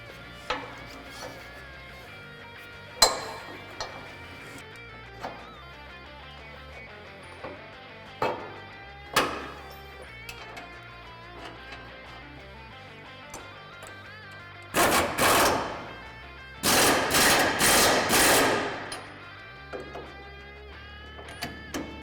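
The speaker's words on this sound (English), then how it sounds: "The last thing to do is install the lower shackle bolt and tighten it up." Rapid bursts from an impact wrench on the lower leaf spring shackle bolt of a Ford F-150 prerunner, with scattered clanks and short whirs before two loud, longer buzzing runs of a few seconds each near the end.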